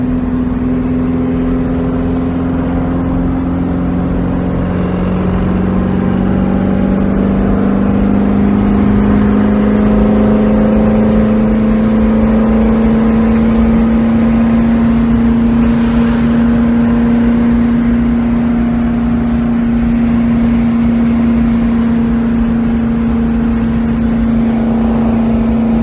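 Interior drone of a Puma sports car on the road, its air-cooled 1800cc Volkswagen engine built with CB Performance parts holding a loud, steady hum that rises slightly in pitch as it runs for nearly half a minute.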